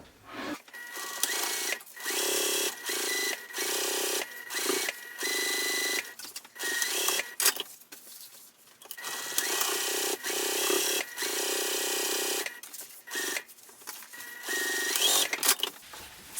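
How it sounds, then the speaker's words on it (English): A sewing machine runs down the side seams of a tote bag in repeated loud, close bursts of steady whirring, separated by brief pauses and soft handling of fabric. "I'm just going to start sewing at the top, back stitch, go all the way down to the bottom"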